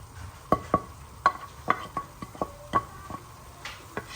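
Garlic and chilies cooking with meat in a single pot for chilli con carne, heard as a run of sharp spoon-on-pot scrapes and clacks over a faint sizzle, close and fairly loud.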